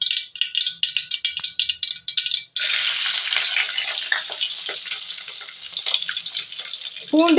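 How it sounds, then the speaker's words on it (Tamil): Peeled garlic cloves hit a hot pan of popping mustard seeds, sending the crackling into a sudden loud, steady sizzle that continues close and bright to the end, after a stretch of spattering pops. "கடுகு பொரிஞ்சதும் ஒரு 8-9 பல் பூண்டு உரித்து வச்சுருக்குறேங்க. இதை இப்போ இதில் சேர்த்துக்கலாங்க."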